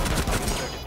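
Pistol shots in the shooter game Rainbow Six Siege, a brief burst of rapid close reports packed into under a second.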